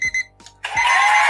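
A live online auction countdown timer sounds several short electronic beeps, then a sustained loud tone sets off as the timer ends.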